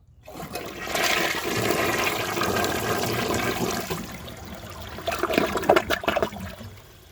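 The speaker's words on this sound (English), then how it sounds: "I'm gonna get the rest of the dirt out and then wrap it up." A 1998 Western Pottery Clinton toilet flushes during a test, a loud sustained rush of water that fades into gurgling and refill trickles near the end, with no talking.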